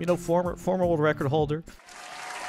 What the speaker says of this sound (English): Please keep your applause down.